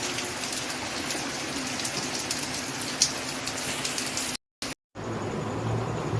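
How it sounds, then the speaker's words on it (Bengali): Steady rain falls throughout, a dense broadband patter with no voices, briefly cut out twice near the end. "বেরিয়ে এসে দেখছি এই যে বৃষ্টি পড়ছে বৃষ্টি"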